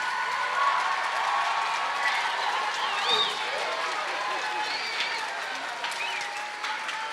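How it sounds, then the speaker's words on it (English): The audience at a 2006 school men's night out concert gives a sustained round of applause, with steady dense clapping and a few voices mixed in. "now we'd like to hear a round of applause for those folks"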